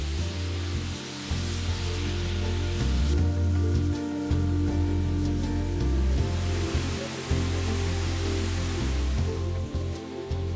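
A steady, loud rush of falling water from the Putuk Truno waterfall in Prigen, East Java, fills the whole clip, a constant dense roar with no voices.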